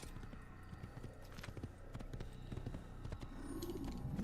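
A brown horse's hooves clip-clop in Assassin's Creed, a steady rhythmic trot of quick hoof taps that grows slightly louder toward the end.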